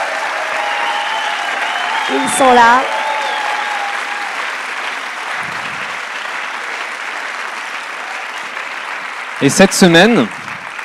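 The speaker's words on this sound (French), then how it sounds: "je vous propose de les applaudir" An audience at a Lyon evening event for Ticket for Change claps steadily throughout, a dense continuous patter of applause, while someone speaks over it in French.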